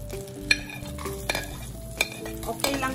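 Garlic sizzles and fries in hot oil in a pan for a spicy squid dish, a steady crackle broken by several sharp scraping stir strokes, close and alone without talk.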